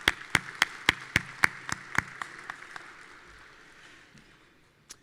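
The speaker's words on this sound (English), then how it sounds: "And let's give Robert Dooley a round of applause." Audience at a Celebration of Valor luncheon applauds a committee chairman, a burst of sharp, evenly spaced claps that thins out and fades over a few seconds.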